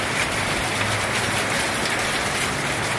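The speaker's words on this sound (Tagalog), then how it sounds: "Grabe lakas po ng ulan" Heavy rain pouring down steadily on a Philippine garden, a dense, loud, unbroken hiss of drops drumming on surfaces, with no voices.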